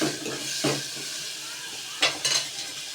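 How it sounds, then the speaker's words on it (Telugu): Onions frying in a pan, a steady sizzle close by with a few sharp stirring scrapes and clinks of utensil against the pan. "ఉల్లిగడ్డ వేగిన తర్వాత ఒక టమాటా వేసేది ఫ్రెండ్స్."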